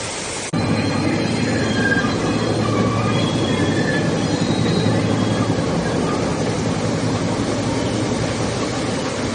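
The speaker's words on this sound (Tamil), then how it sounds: "அந்த பாலத்தின் வழியாக ரயில் செல்வதையும் காணக்கூடியதாக இருந்தது" A train crossing a bridge above Nanu Oya Falls, Sri Lanka, rumbles past loudly and continuously, wheels clattering with faint metallic squeals, starting abruptly and holding steady throughout.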